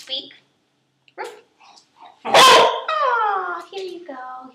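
A pet dog barks on command: a single loud, sharp bark near the middle, with whimpery yips and soft human voices before and after.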